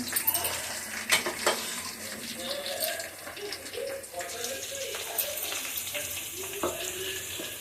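Curry leaves and garlic frying in a pan for a leafy-greens dish, a steady close sizzle with occasional stirring clinks, with a voice talking over it.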